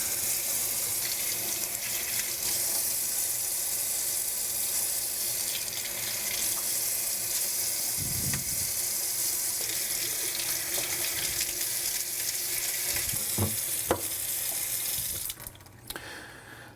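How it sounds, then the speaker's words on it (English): Running water from a tap streams steadily through a handheld strainer as tomato seeds are rinsed, a constant close rushing hiss that cuts off near the end. "And now we'll just run this under a stream of water to wash the seeds off."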